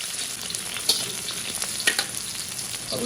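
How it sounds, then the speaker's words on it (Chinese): Pork belly, green chili peppers and dried chili peppers stir-frying in rendered fat, a close, continuous sizzle with a few sharper pops and spatula scrapes. "炒出青椒、干辣椒的香味"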